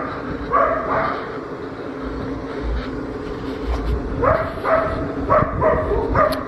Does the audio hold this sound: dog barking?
yes